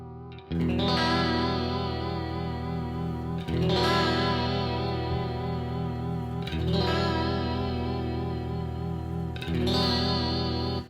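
Electric guitar running through a Line 6 MM4 modulation pedal with depth cranked to maximum and speed raised, four strummed chords ringing out in turn, each swirling with a heavy, wobbling modulation.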